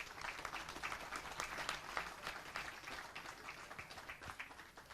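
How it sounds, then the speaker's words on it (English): Sustained applause from an audience at a women's 10m air rifle standing final, a dense wash of many hands clapping at moderate distance for several seconds. "Applause."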